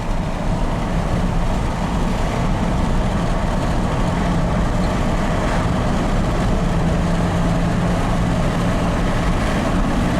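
A 1994 Ford F150 pickup, said to have run poorly, drives and accelerates with a loud, steady low engine drone and road rumble heard from inside the cab, with no talking.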